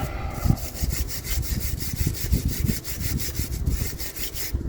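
A brush scrubs back and forth in the grooves of a Ford Fiesta Ghia Mk6 brake caliper, a close, rapid rasping rhythm of repeated strokes with no voices.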